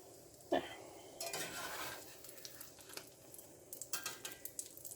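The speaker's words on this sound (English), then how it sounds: "I like to scrape it a little bit just to make it a little bit thinner." Utensil scraping pancake batter thin across a hot pan on a stove, a sharp clink up front followed by repeated soft scraping strokes and light clatter, with faint sizzling underneath.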